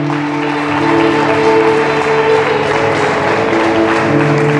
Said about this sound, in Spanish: Aplaudo a Cristo en esta mañana